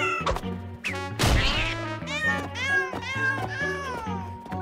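A cartoon cat meows repeatedly, loud and close, in a run of drawn-out, wavering cries with a brief thump near the start.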